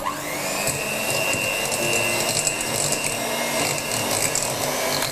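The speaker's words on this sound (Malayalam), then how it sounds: "ആദ്യം വെണ്ണ ഒന്ന് ചെറുതായിട്ടൊന്ന് ബീറ്റ് ചെയ്യാം." An electric beater whirs steadily through 125 grams of unsalted butter in a large bowl for a marble cake, a continuous motor drone with slight scraping fluctuations and no talking.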